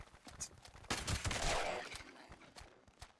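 Shotgun blasts in Fallout 76, several sharp booming shots at uneven intervals with one heavier blast and a rushing tail in the middle, fairly quiet overall.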